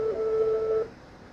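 A single sustained telephone keypad DTMF tone, loud and close, lasting under a second before cutting off to quiet.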